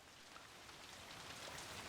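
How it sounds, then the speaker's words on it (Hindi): Heavy rain pours down in a Chinese action film, a dense, even hiss of countless drops that is soft and distant and continuous throughout, with no voices over it. "बड़ी जोरों की बरसात हो रही है आज।"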